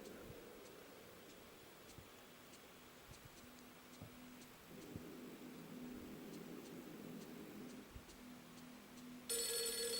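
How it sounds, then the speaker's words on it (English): A telephone rings in the horror video game Project Zero 3, a quiet repeating electronic tone over a soft, steady ticking clock in an otherwise still, hushed room. "Then the phone rings."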